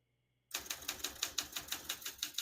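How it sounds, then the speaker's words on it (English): Keys strike steadily on a 1966 Olympia SM8 vintage portable typewriter, a brisk run of sharp clacks that starts abruptly out of silence and continues at an even, rapid rhythm, loud and close. "As you can see, all the keys type nice and none of them skip or stick."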